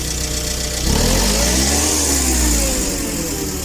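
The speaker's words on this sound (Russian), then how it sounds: "Сейчас нажму на газ." The gasoline four-cylinder engine of a Mitsubishi FG15 1.5-ton forklift rises from idle into a sustained, loud rev. The engine drones steadily with no speech over it.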